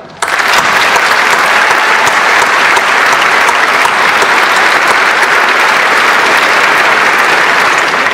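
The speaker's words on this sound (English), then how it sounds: "We applaud you." Dense, steady applause fills a community college commencement hall, starting abruptly and holding at full strength throughout, loud and close with no voices over it.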